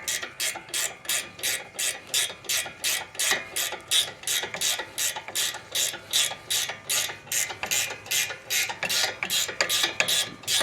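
A hand ratchet turns a 19 mm socket on a brake bolt during a brake pad and rotor change, clicking in a close, steady rhythm of rapid ratcheting strokes that repeat evenly for the whole stretch.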